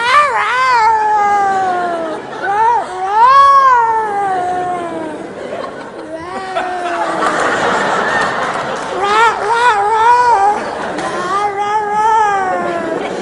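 A stage performer imitates a cat with his voice, giving a run of long, wavering meows and yowls, loud and close, with a few breaks between cries.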